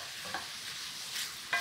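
Onions fry with fresh thyme leaves in a pan, a bright steady sizzle with a couple of soft stirring scrapes over less than two seconds, no speech.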